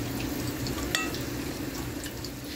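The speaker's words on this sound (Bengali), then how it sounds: "অনেকক্ষণ ভরে এটা ভাজছি কারণ এটা গোল বেগুন দিয়ে করা হয়েছে" Thick-cut slices of round eggplant fry in a pan with a low, continuous sizzle and a faint watery crackle, close by, with a brief clink near the start and no voices.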